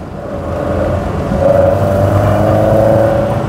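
A Fiat 131 Mirafiori Sport/Racing breathing through twin Dell'Orto carburettors gives a loud, close induction roar that swells and holds at steady revs, with a humming whine over a deep engine rumble and no voices.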